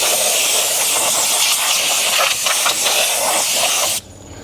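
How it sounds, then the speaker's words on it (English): Compressed air line blasting a loud, steady hiss through a trailer's electric brake assembly to clear out dust during a fifth-wheel inspection, running continuously for about four seconds and then cutting off abruptly. "just buff that out with the airline"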